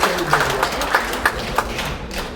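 Audience applause at a book launch ceremony at the National Assembly Museum: a short patch of steady, moderately loud clapping from a gathered crowd, with a few sharper individual claps standing out.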